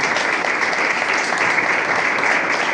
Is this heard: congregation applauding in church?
yes